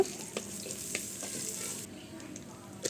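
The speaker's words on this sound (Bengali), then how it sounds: "বাগারের জন্য আস্ত জিরা দিয়ে দিলাম এবার এর মধ্যে পেঁয়াজ কাঁচামরিচ দিয়ে দিব" Whole cumin, onion and green chili frying in oil for a dal tempering, giving a continuous close sizzle with occasional light spoon taps and stirring scrapes.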